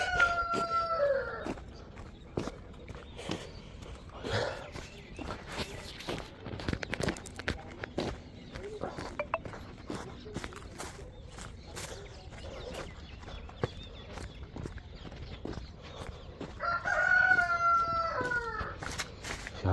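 A rooster crows at the start and again near the end, loud and nearby, with scattered clucks, shuffling footsteps and rustling in between.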